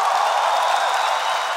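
An audience at a Catholic youth gathering led by a priest applauds, a dense, steady wash of clapping that is moderately loud and sustained without breaks.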